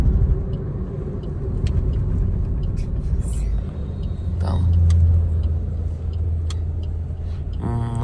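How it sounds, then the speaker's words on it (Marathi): A large luxury bus passes on the road, a heavy low engine rumble that swells to a peak midway and then eases, with people talking quietly nearby throughout. "किती मोठी बस आहे बघ"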